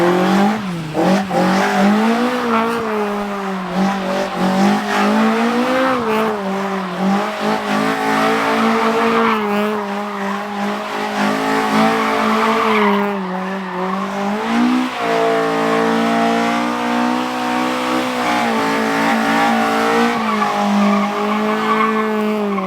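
A Toyota Corolla AE86 circling a cone on an English farm, with loud, continuous tyre squeal over a revving engine that rises and falls as it goes round, close by and with no talk.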